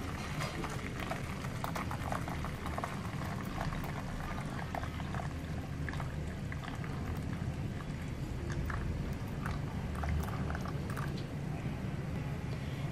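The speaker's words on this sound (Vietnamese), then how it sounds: "Sau đó mình cũng cho nước nóng 70 độ vào." Hot water at 70 degrees is poured into a pot holding jars of fruit yogurt set to incubate, a continuous, close, bubbling and rushing pour that lasts throughout, with no talking.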